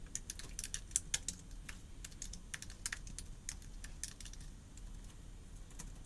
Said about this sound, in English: Now you can't see what I'm typing.